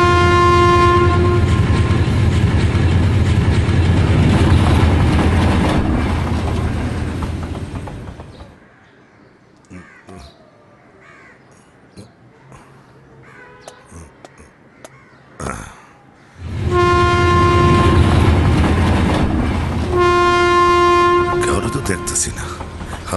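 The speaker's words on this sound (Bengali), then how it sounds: "ওই যে ট্রেন এসে পড়ছে" A train pulls into a station in a Bangla film scene, its loud horn blaring in long sustained blasts at the start and again near the end, with rumbling wheels and rail noise between and brief voices in the quieter middle stretch.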